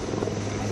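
The rigid rotor of an LCH Prachand light combat helicopter gives a brief, steady, dense drone with a low hum underneath, loud and continuous.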